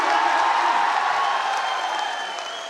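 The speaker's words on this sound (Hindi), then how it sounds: "इतनी कमजोर ताली से काम नहीं चलेगा" Political rally audience in Bihar giving steady, dense applause with some cheering, loud and continuous, tapering slightly toward the end.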